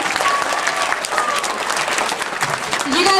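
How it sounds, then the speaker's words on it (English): An audience applauding at a school anti-bullying presentation, brisk continuous clapping from a room full of people, with voices briefly audible near the end. "All right, can you guys give them a round of applause"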